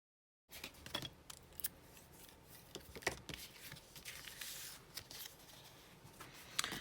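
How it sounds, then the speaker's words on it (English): Scissors trimming excess patterned paper while making a pinwheel card: quiet, close snips and paper rustles in a short irregular run, with no voice. "I can trim off my excess paper"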